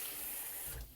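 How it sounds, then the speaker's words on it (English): Fresh cold water runs from a tap into a pot being rinsed out, a steady close rushing splash that changes pitch and tails off as the flow ends. "we're just going to take some fresh water and make sure to clean that all"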